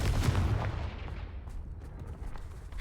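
Confringo fire spell exploding in the Hogwarts Legacy video game, a loud, dense booming blast with rumbling low end that decays into crackling debris over a few seconds, with no speech over it.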